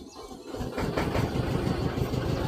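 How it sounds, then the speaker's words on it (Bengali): A trawler boat's engine starts after a quieter first half-second, then settles into a loud, steady, throbbing rumble that runs to the end with no voices over it. "এই তো আমাদের ট্রলার যাচ্ছে"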